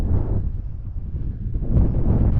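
Steady wind buffets the microphone in open New Mexico desert, a constant low rumbling roar that swells louder toward the end, with no other distinct sounds.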